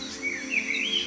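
Four zebra finches in an aviary make a brief, thin chirping call over a steady low hum.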